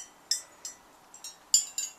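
Freshly glaze-fired pottery, including oval dishes, pinging as it cools after a kiln firing: about six bright, sharp, high-pitched pings at irregular intervals, close and fairly quiet against a faint background.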